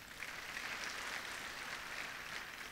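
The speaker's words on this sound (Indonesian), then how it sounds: "Kita berikan tepuk tangan buat Tuhan." Congregation applause during a church sermon, a faint, distant, even wash of many hands clapping that holds steady throughout without any voices on top.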